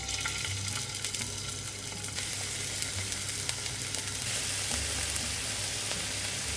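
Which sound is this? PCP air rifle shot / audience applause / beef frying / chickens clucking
beef frying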